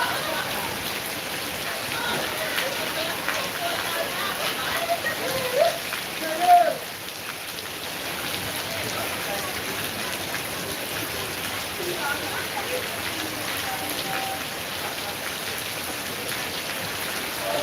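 Steady rain falls across the whole scene as a continuous broadband hiss of drops on surfaces. It holds at an even level throughout, with a brief louder bump partway through and faint voices mixed in at moments.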